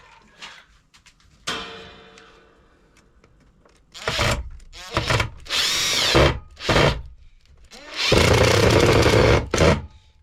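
A cordless power drill drives screws into an isolator front cover in several bursts, each a loud whirring run of a second or two, with quieter gaps and handling clatter between them; the last two runs are the longest.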